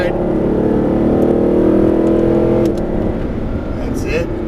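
A Mercedes SLS AMG accelerates hard out of a tight hairpin, its engine note rising loud and close for a few seconds before easing off, with tire and wind noise underneath.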